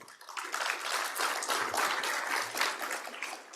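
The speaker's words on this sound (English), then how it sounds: "a warm round of applause again to Mr." Applause fills a conference hall at a public financial management event, a dense, even wash of clapping lasting a few seconds.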